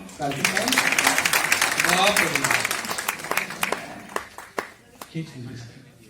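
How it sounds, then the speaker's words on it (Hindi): Audience clapping at a Hindi kavi sammelan poetry recital: a steady patter of hands from a seated crowd, with voices running through it, thinning into a few scattered claps toward the end. "तालियां वालियां बजाओ।"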